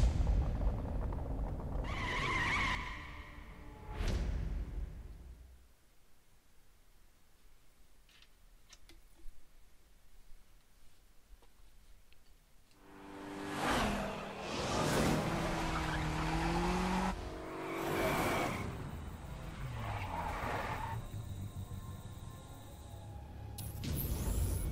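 A car in the racing video game The Crew revs and drives, with engine roars and tire squeals bursting out at the start, a long quieter stretch, then loud sustained engine and skidding returning for the final half.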